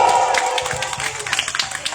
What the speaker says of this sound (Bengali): দুজনের জন্য জোরে হাততালি হোক